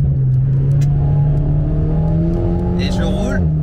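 An Alpine A110 sports car driven hard in track mode with assists off, its engine droning loud and close with a rising then falling pitch, with a brief high squeal near the end and a voice talking over it.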